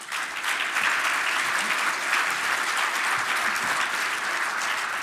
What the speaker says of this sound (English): A little round of applause for them.